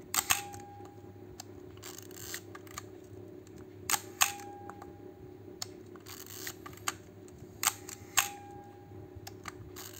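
Nikon FM2 film camera shutter fired repeatedly at slow speed, each sharp click of the mirror and shutter followed by a brief gap before the closing snap, close and crisp against a quiet room hum.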